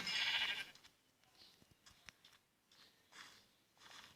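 A sheep in the Minecraft video game bleats loudly once at the start, followed by faint scattered clicks and soft game noises with no voices.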